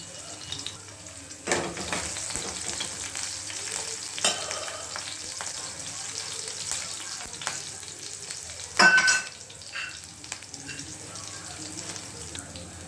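Small spoonful of mustard seeds frying in hot oil with green chillies while lemon rice is cooked, a soft, steady sizzle with stirring clatter and a couple of sharper knocks from the spoon.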